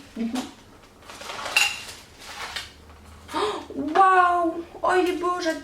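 A bracelet jingles inside a gift package as it is shaken, giving bright metallic clinks and rattles in short bursts, with someone talking and gasping around it.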